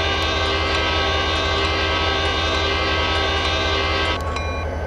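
A loud, sustained horn blast from a Norfolk Southern fly-ash coal train in a train simulator game, ringing out continuously with a steady rumble beneath it and a brief sharper note near the end.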